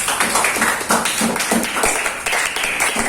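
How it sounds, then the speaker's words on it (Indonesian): Classroom audience of teachers and students clapping at a university teaching session, a steady patter of hand claps with rhythmic bursts, fairly close, heard alone without talk. "Oke, tepuk tangan dulu untuk kalian semua."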